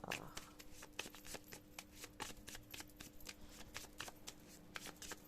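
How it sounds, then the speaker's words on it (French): Talc-dusted tarot cards shuffled and cut by hand, a steady run of soft, close riffling and slapping card sounds at low volume, with a voice speaking over them. "On va faire une coupe, il n'y aura pas de cartes qui vont sauter là."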